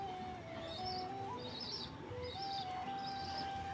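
Pet pigeons coo softly in repeated low, rolling calls, with faint chirps above, heard close against a steady background hum and no talking.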